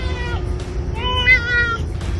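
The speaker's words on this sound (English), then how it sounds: "He's not just meowing the meow." A house cat meows insistently at close range, giving a few drawn-out, wavering cries one after another with no talking around them.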